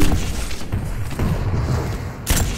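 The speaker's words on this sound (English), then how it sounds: "eats a ton of damage and a rocket jump too" Rocket explosions from a Quake duel, including a rocket jump, give loud, dense booming game audio with rumbling thuds throughout and a sharp fresh blast near the end.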